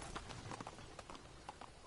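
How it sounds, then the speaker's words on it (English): Horse hooves clip-clopping at a quick gallop in Assassin's Creed Syndicate after the animal is spooked, a steady run of fairly faint hoofbeats with no voices. "He spooked the horse."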